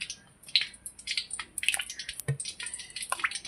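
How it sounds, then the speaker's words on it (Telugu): Badusha dough balls dropped into hot oil on gentle heat, giving soft scattered sizzles, crackles and pops, faint and irregular, with no one talking. "చేసి పెట్టుకున్న బాదుషా పిండి ముద్దలన్నీ ఆయిల్లో వేసుకుందామండి."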